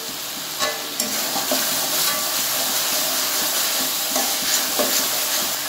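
Ginger-garlic paste and spices sizzling steadily in oil in a pan with two dried and two green chillies, a continuous close hiss with occasional stirring scrapes, for Bengali-style egg bhuna.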